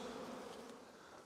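Honeybees buzz steadily around a queenless hive box well stocked with flying bees, a dense, continuous close-up drone of many wings with no voices.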